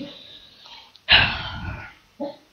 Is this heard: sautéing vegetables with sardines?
no